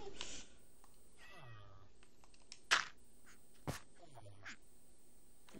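A cat meows in a quiet room, a couple of short mid-pitched meows amid sparse faint clicks and a few sharp knocks, with a soft voice barely present.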